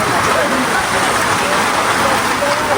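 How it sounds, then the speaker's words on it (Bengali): Rain falling steadily in a coastal char village, a dense, loud, even hiss of drops on surfaces close by, with no break throughout. "তারপর কিন্তু বৃষ্টি শুরু"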